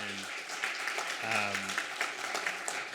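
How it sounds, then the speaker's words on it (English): Audience applause for panelists closes a conference session, a steady wash of clapping with voices audible over it at times. "can we get a round of applause for the panelists"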